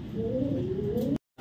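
A male racing pigeon coos in one low, steady, drawn-out call lasting just over a second, close and clear, ending abruptly.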